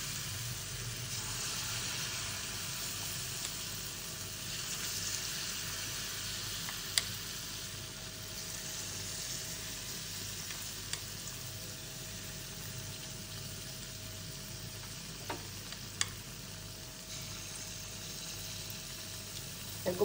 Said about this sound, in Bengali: এইরকমভাবে সবগুলোই একটা একটা করে ভেজে তুলব।